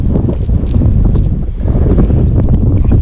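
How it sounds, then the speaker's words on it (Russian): Wind picks up outdoors on a fishing outing, gusts buffeting the microphone in a loud, continuous low rumble that swells and dips. "Что-то ветерок поднялся."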